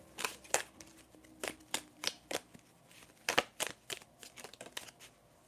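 Tarot cards being shuffled by hand at a live reading: a series of quick, crisp riffling and slapping bursts in irregular clusters, fairly close and moderately quiet, with no talking.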